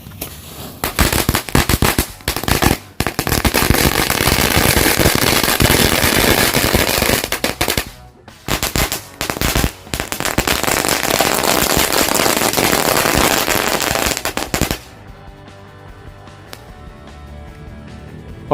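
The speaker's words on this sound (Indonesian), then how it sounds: "Ini eksperimen mercon cabe versus telur mentah." Rapid bursts of chili firecracker explosions set on a raw egg crackle loudly and continuously, with brief gaps, then stop abruptly, leaving quiet ambient noise.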